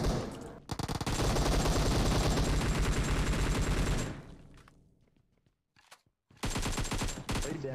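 Rapid automatic gunfire in the battle game PUBG Mobile, long dense bursts of loud close shots, a brief lull with scattered distant pops, then another heavy burst.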